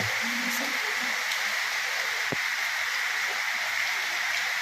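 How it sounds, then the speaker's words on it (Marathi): A steady, dense hiss of frying oil bubbling continuously around jackfruit pieces, close and even, with a faint thump in the middle. "असं खळखळ आवाज येतो बघ"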